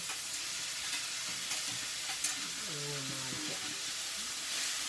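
Chicken intestines and leafy greens stir-fry in a pan over a firewood fire, producing a steady close sizzle and hiss, with a brief voice rising over it midway.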